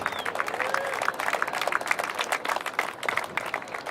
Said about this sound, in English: we also have to give a round of applause to our judges and the whole team behind the scenes